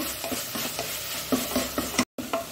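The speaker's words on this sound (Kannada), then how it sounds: "ಇದರಲ್ಲಿ ಸ್ವಲ್ಪ ಫ್ರೈ ಆಗಬೇಕು." Fenugreek leaves frying in a pan for methi pulao, a continuous close sizzle broken by rhythmic spatula stirs and scrapes, with a brief dropout near the end and no talking.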